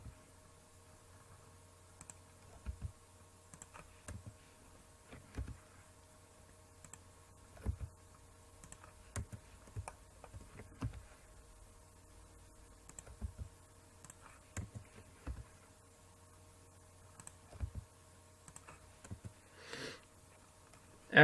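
Quiet computer keyboard key presses and mouse clicks during 3D modelling work in Blender, scattered sharp taps at an irregular pace over a faint steady background hum, with no talking.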